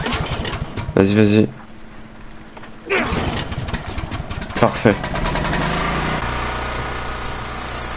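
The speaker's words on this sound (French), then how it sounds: "Le bruit d'une tondeuse à gazon." Lawn mower engine in The Last of Us sputters into life after several rough pulls and bursts, then settles into a steady, buzzing run. People talk briefly over it, and the engine stays close and fairly loud.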